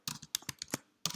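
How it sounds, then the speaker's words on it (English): Quick typing on a computer keyboard: a handful of sharp, separate key clicks in an uneven rhythm, close and fairly quiet, with a short pause before a final burst of keystrokes. "if my typing is even worse than usual"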